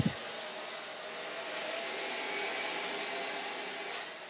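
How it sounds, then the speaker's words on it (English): A hair dryer blows in a steady, close whoosh of air during a round-brush blow-out of hair, holding even and unbroken after a brief click at the start. "and blow drying it out."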